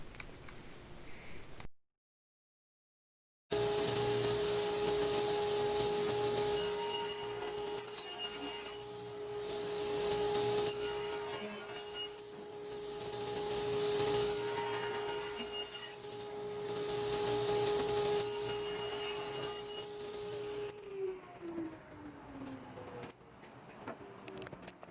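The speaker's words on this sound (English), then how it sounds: "all the drawers are glued up, and I'm sanding the corners" Sanding the corners of glued-up wooden drawers, a sustained scratchy rubbing with a faint tonal hum underneath and a brief silent gap near the start, followed by a shift in the hum toward the end.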